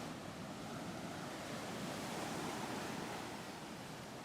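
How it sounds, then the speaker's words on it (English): Steady, broad roar of ocean surf breaking continuously on Macao Beach, fairly close, with wind noise mixed in and no voices. "Lots and lots of waves."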